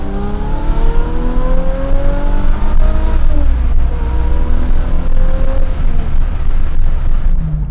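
A 400 lb-ft Aston Martin DB7 Vantage V12 with a six-speed gearbox, running with its exhaust cutout open, pulls hard through the gears, its loud raw engine note climbing and dropping at each shift.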